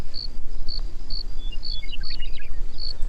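Cricket chirping outdoors on Point Sal Trail, a steady series of short high-pitched chirps repeating about every half second, fairly close and clear over faint background noise, with a few brief bird calls mixed in.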